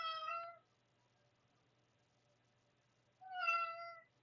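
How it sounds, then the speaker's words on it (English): A cat meows twice, each call a clear, moderately distant mew about half a second long, separated by roughly three seconds of quiet room tone with a faint steady hum. "Someone needs to go feed the cat."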